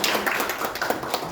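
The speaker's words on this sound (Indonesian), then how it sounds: "Terima kasih Bapak Ibu, tolong tepuk tangannya sebentar." Brief, close applause from a small audience during a public speaking training session in a meeting room, a quick patter of hand claps lasting just over a second.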